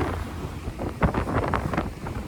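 Gusty wind buffets the microphone aboard a Carver 3697 motor yacht out on open water, with faint sloshing and a couple of sharper thumps.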